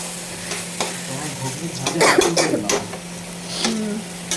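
Potatoes and peas for ghugni stirred in a pan with a metal spatula, scraping and clattering over a constant frying sizzle, busiest in the middle, close up with a low hum underneath.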